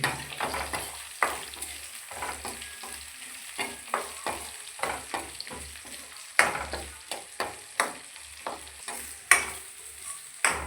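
Onion and garlic sautéing in a pan, with steady soft sizzling under repeated spatula scrapes and stirs, close and moderately quiet with no talking.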